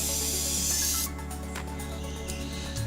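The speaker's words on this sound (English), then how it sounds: "Nice lace web spray." A steady, close hiss of PVC-compatible contact adhesive spraying in a lace web pattern runs for about a second, then continues as softer, broken bursts of spraying.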